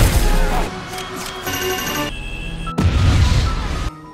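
A ship blows up in the animated film Cars 2 after Finn sets off a bomb, with a sudden loud blast bursting in over a dense bed of music and effects.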